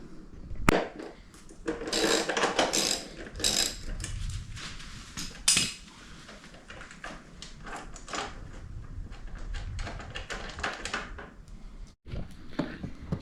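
Tools undoing the seat bolts on a Honda CRF 300L, a close series of metallic clinks, rattles and ratchet clicks in irregular bursts with brief quieter gaps.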